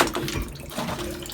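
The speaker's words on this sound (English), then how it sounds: "It's just gonna come pouring out what's left in there" Leftover water pours and splashes out of a toilet tank after its nut is removed while the flapper and line are being replaced. The flow is steady, close and fairly loud throughout.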